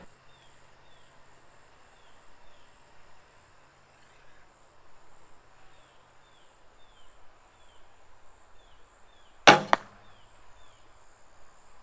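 A Win&Win Radical Pro recurve bow with MXT limbs, shot without limb silencers, releases a single arrow: one sharp, loud snap near the end, set against a quiet outdoor backdrop of chirping crickets.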